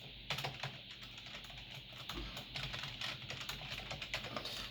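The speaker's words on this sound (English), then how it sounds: "I need to type in a few settings" Fingers type on a computer keyboard while settings are entered during Windows 7 setup, a run of quick, light, close key clicks with uneven rhythm.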